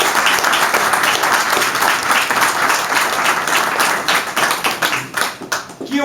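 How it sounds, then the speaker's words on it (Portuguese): Audience applause at a book presentation in Lisbon honouring April military veterans, dense continuous clapping from a room of people, loud and even, thinning slightly at the end. "eu peço uma salva de palmas para os militares de Abril"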